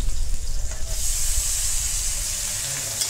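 Onions sautéing in a pan for a prawn cauliflower gravy, giving a steady close sizzle and hiss with some low stirring rumble, louder at first and settling into an even fry.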